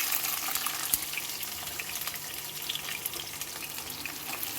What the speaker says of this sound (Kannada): ಮೀಡಿಯಮ್ ಫ್ಲೇಮಲ್ಲಿ ಒಗ್ಗರಣೆ ಹಾಕ್ಕೊಂಡ್ರೆ ಚೆನ್ನಾಗಿರುತ್ತೆ